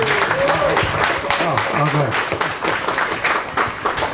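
Audience applause at a lecture, a steady wash of clapping running the whole time beneath a speaker's voice that talks over it.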